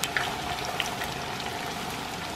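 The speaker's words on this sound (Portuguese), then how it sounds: "Eu deixei o óleo bem quente, então, na verdade, ele é o tempo de fritar só pra murchar mesmo" Eggplant fries in very hot oil, a steady close crackle and sizzle with a few sharper pops near the start, continuing evenly without any voices.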